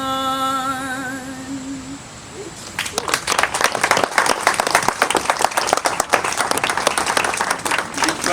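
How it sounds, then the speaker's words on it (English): Audience at a Black American artifact showcase bursting into applause after a sung or hummed tone fades, crisp dense clapping building and sustained for several seconds, close and lively. "nice round of applause again"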